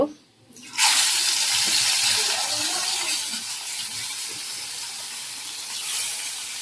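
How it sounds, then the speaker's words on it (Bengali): Fish being rinsed under a running kitchen tap during home cooking, a steady close hiss of flowing water starting after a brief quiet moment and continuing evenly to the end. "তার মাছগুলো এখন ধুয়ে নিব।"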